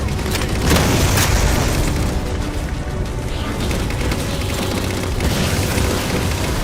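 Railgun fire and explosions in Halo 4 as phantoms are shot down, heavy booms and bursts layered over a dense, continuous rumble of battle, loud and close throughout.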